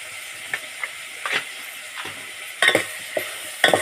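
Crab masala mixture with garam masala and red chili powder being stirred in a pan, a spoon scraping in irregular strokes with a soft sizzle underneath, several louder scrapes toward the end, no voices.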